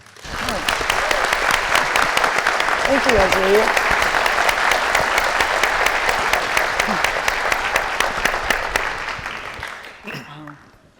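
Audience applause at a literary conversation event, sustained dense clapping from a crowd for about ten seconds before fading, with a brief spoken thank-you near the end.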